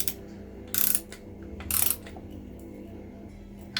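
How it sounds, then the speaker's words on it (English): An older-style foot-pound torque wrench ratchets twice in short bursts while snugging bolts on a Reliant Supervan engine block, the clicks crisp and close over a low background hum. "I've got my torque wrench set up here already, and it is an older style one, so it is in foot-pounds"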